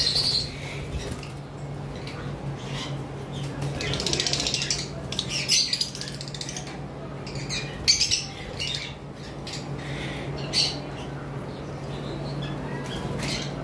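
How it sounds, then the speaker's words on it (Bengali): Green opaline Fischer's lovebirds in a crowded aviary of many birds, a continuous chorus of shrill squawks and chirps at moderate distance with steady background hum. "উপরে আমাদের কাছে একটা গ্রিন ফিশারের পেয়ার রয়েছে অপালাইনের"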